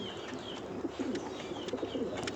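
Pigeons kept by a breeder coo softly and repeatedly over a steady hum of background noise, with faint chirps and clicks from other birds and no one speaking.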